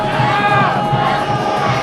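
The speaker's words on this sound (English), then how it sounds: "Great crowd here tonight in Smithfield." A big crowd at a high school football game in Smithfield roars and shouts together in a brief, dense burst of cheering.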